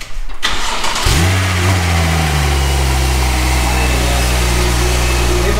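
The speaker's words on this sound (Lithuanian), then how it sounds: "Taip man patinka tas Porsche variklio garsas." A Porsche engine cranks briefly, fires loudly, then settles into a strong, steady idle that hums on close by with no voices over it.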